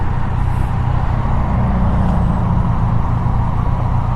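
A Yamaha Niken three-cylinder motorcycle accelerates on the road, a loud, steady engine roar mixed with wind rush that holds constant throughout, heard from up close.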